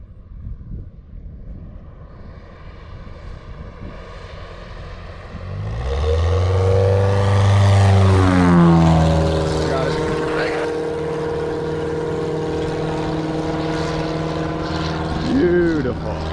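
A propeller plane flies in to tow a banner, its engine drone swelling loudly as it passes close overhead. The steady roar then eases and pitch-shifts while it moves away.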